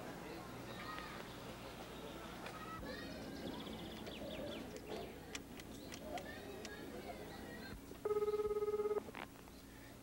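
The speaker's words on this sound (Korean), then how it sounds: "저 형기네 집이죠?" A telephone rings once in a single electronic burst, partway through a busy home scene of shifting background noise and voices from a Korean drama.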